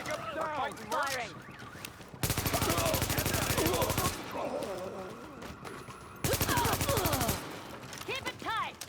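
Video game gunfire comes as two long bursts of rapid automatic fire, loud and close, separated by gaps where a voice speaks, and more talk precedes the first burst.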